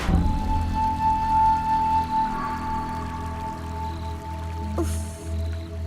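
Rain falls during the monsoon season in a Hindi horror cartoon: steady, close dripping and splashing runs throughout, beneath a sustained tonal background.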